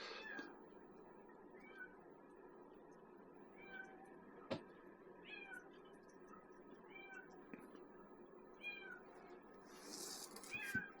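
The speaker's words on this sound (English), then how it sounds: "That's not even my cat. It's out on the porch crying to come in." A cat meows repeatedly outside on a porch, a series of short, fairly faint cries spaced a couple of seconds apart, with a sharp knock partway through and a rustle at the end.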